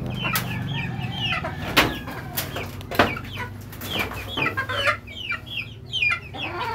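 Several chickens cluck and squawk close by in short, irregular bursts, with a low hum underneath and a few sharp knocks.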